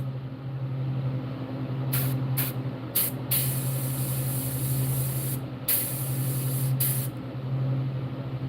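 Airbrush hissing paint onto a largemouth bass artwork in steady bursts, with several short sprays followed by longer continuous passes over a constant low electric hum, close and fairly quiet, with no talking.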